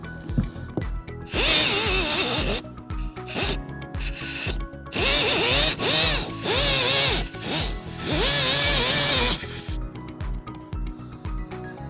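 A power tool cuts through the rear bumper cover of a 2018 Tesla Model S to fit a trailer hitch, running in several loud, whining bursts of a few seconds each with short pauses between them.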